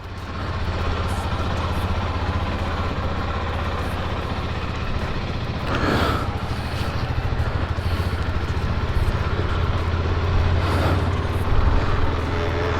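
A Husqvarna Svartpilen 401 motorcycle idles nearby with a steady low, throbbing engine rumble that holds throughout, joined by faint rustling and a few soft knocks.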